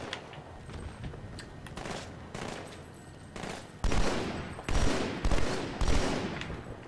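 Carbine fire in Halo 2 Anniversary on the Outskirts level, heard as repeated bursts of sharp shots, some distant and some louder and closer, over ongoing battle noise.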